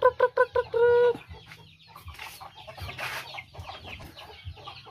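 Pet chickens cluck and a rooster gives a short crow-like call at the start, followed by softer scattered clucks and rustling nearby.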